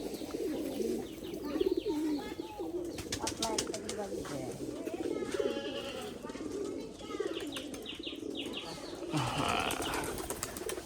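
Pigeons coo repeatedly nearby while wings flap in short bursts, with people talking in the background.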